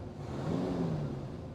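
A cold 1959 Corvette C1 with a 283ci V8 idles with a low, steady burble and a slight rise in the middle, fairly faint and alone.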